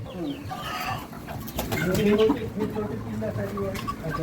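Chickens cluck softly and intermittently nearby on a poultry farm, mixed with low voices talking in the background.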